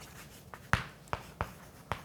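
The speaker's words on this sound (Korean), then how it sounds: "제가 강조를 해서 써볼게요" Marker strokes squeak and tap on a whiteboard in a finance lecture about dollar dominance, a few short, distinct writing sounds spaced about half a second apart, close and fairly quiet with no talking.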